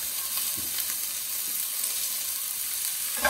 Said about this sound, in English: We're gonna put in our onion. Oh, that's what I like to hear. Nice sizzle of this.